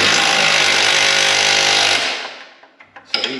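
Power tool tightening radius arm bars on a Can-Am Maverick, a loud, steady buzzing whir for about two seconds that winds down, followed by a few short clicks and clanks.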